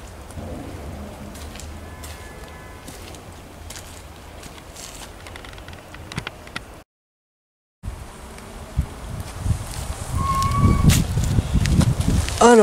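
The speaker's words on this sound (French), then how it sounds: "les abeilles raffolent de butiner ces astères" Bees foraging on blooming asters in a garden perennial bed in early October, a soft buzzing within outdoor ambience that briefly cuts out, then returns louder and closer with rustling.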